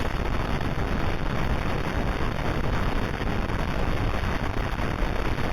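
Processed space signal audio in the video game Voices of the Void, a steady, dense wash of hissing static and rushing noise that holds at an even, fairly loud level throughout with no voices.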